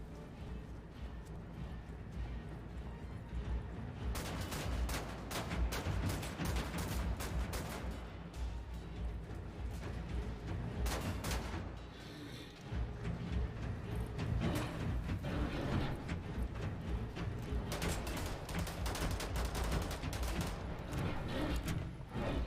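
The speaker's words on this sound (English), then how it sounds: "Shotgun." Shotgun blasts from the shooter game Wolfenstein: The New Order are mixed into dense, near-continuous gunfire and explosions. They stay loud throughout, with only one brief dip partway through.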